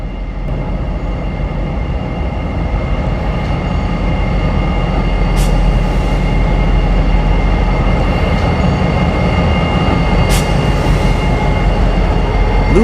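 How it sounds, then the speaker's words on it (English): Two locomotives rumbling beneath a bridge in Lula, Georgia, a loud continuous heavy engine drone with a couple of faint metallic ticks, close and steady throughout, no talk. "once the two locomotives go beneath the bridge"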